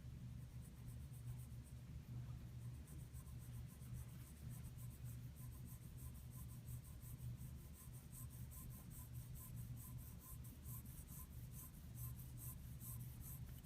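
Colored pencil shading a brick wall drawing on paper, a faint steady rubbing and scratching of the lead across the sheet, close and unbroken throughout.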